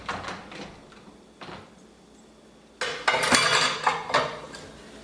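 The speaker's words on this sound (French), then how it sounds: "donc là je vais mettre la vaisselle dans la machine." Dishes, pots and cutlery clatter as they are loaded into a home kitchen dishwasher: a few light clinks at first, then a louder, busier run of plate and utensil knocks close by.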